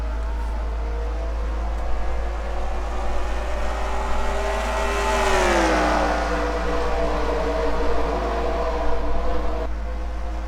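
Stock race cars accelerating on a restart at Charlotte in a racing game; a loud, dense engine drone climbs and sweeps past close by, with harmonic whine rising then falling as the pack passes, under a constant low hum.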